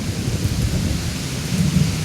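Thunder rumbles low and steady through a heavy rainstorm, a continuous close roar of rain with deeper swells of rolling thunder, no voices.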